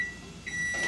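A Panasonic microwave oven's finished-timer beeps, short high electronic tones repeating a few times within a second over a low hum.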